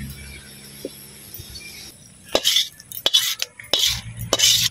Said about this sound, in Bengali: ডালের ভাজা হয়ে গেছে আর নামাই নিতেছি